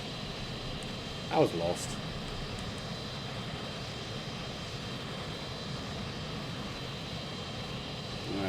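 Steady engine drone from a Tornado jet taxiing in Microsoft Flight Simulator 2024, a constant hum under a brief spoken remark.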